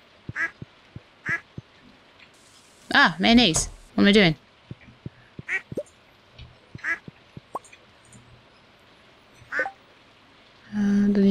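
Ducks quack from a farm coop in the Stardew Valley video game, several short calls scattered through the clip, with a louder burst near the middle, while someone talks briefly.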